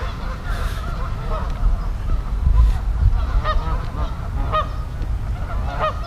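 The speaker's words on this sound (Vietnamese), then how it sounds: "đừng có cho mấy con vịt, mấy ngỗng này nó ăn" Geese and ducks at a park honk repeatedly in short nasal bursts, moderately close, over outdoor background noise and occasional low rumble.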